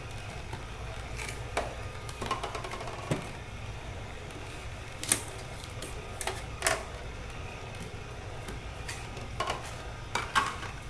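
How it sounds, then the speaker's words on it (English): An Omega VRT350 HD low-speed juicer crushing apples, a steady low motor hum with intermittent grinding crunches and clicks as pieces feed through, quiet and close. "So it's going to take us a little bit longer to juice the apples in the Omega VRT350 HD."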